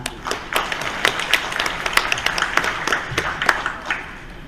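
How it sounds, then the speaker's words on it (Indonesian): Audience members at a breast cancer seminar in Indonesia clap in a loose, uneven rhythm, individual sharp claps standing out rather than merging into a roar, moderately loud in a hall. "Boleh tepuk tangan."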